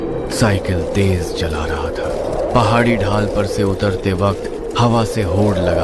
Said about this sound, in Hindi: चिड़िया बोल रही थी